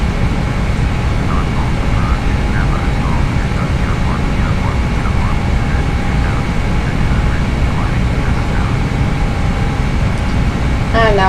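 Airbus airliner engines roar at takeoff power in a flight simulator, a loud steady broadband rush with a faint whine, continuous and unbroken for the whole stretch.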